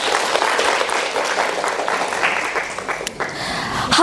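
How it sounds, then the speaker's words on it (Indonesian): A room of students at a morning seminar breaks into applause, a dense, continuous crackle of many hands that holds steady before easing slightly near the end, fairly loud and close. "Tepuk tangan buat kita semua"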